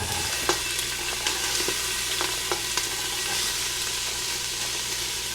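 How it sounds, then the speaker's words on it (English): Onions sautéing in olive oil in a pan for a seafood cioppino, giving a steady broadband sizzle with a few sharp stirring clicks and scrapes, close up with no talking. "We are starting with some olive oil in our pan. Next, we're gonna add in some onions"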